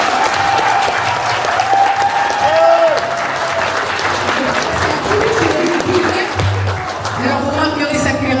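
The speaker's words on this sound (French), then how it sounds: "C'est ma femme, je commence à l'applaudir" Audience applause at an upcycling fashion show in Étaples, sustained crowd clapping with cheering voices and some music underneath, loud and continuous.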